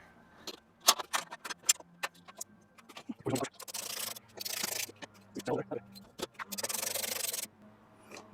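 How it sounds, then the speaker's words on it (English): A ratcheting box-end wrench tightening small 10 mm bolts on a Jeep JL tailgate while a tailgate table is fitted, with quick clicking bursts and longer rasping ratchet runs close by, plus a few brief metallic knocks. "So we're going to try it with our ratcheting box end."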